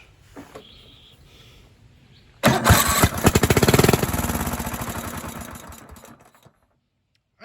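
A Kohler engine on a riding lawnmower with a new starter and a side-draft carburetor: a few faint clicks, then a sudden loud cranking and sputtering catch that runs rough and rapid, fades over a few seconds and stops.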